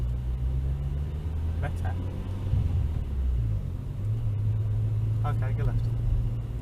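A Renault Twingo RS pulls away during a driving lesson, its engine rumbling low and rising slightly in pitch inside the cabin as an instructor speaks briefly over it.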